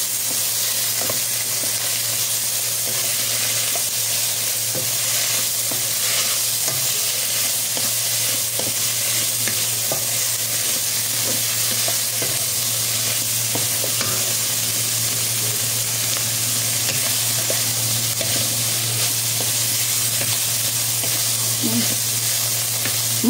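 Chicken balls and liver sautéing in a pan, with a steady close sizzle and frying hiss throughout, occasional stirring clicks and a low hum underneath.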